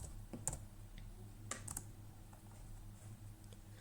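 Keystrokes on a computer keyboard as a search phrase is typed: a few quiet, scattered clicks and taps, some in quick clusters, alone against a faint room hum.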